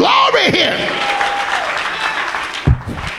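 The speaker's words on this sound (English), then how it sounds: "Somebody clap your hands and give God glory here." Church congregation claps hands in praise during a sermon, a steady wash of applause under a voice that keeps going over it.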